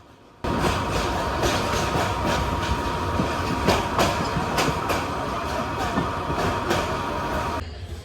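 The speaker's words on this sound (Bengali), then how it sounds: "আমাদের ট্রেন এখন প্রবেশ করছে ভৈরব জংশনে" Heard from on board, the Kishorganj Express rolls into Bhairab junction with a loud, continuous rumble and a regular clickety-clack of wheels over rail joints.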